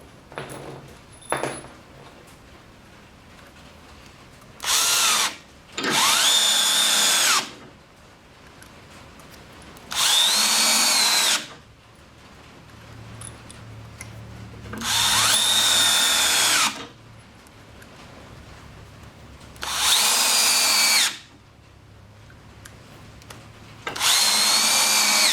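A Hart 20V 1/2 inch cordless drill drives 2.5 inch exterior screws in five separate loud bursts of high-pitched whirring, each lasting about one to two seconds, with quiet pauses in between.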